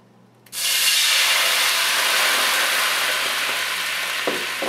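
White cooking wine hits a hot pan of chicken cutlets with a sudden loud sizzling hiss that holds steady and close for several seconds, with a faint clink near the end.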